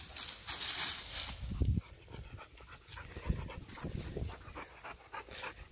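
A Staffordshire bully dog pants rapidly after fetching a stick outdoors, quick breathy huffs close to the mic over wind and rustling, with no talk.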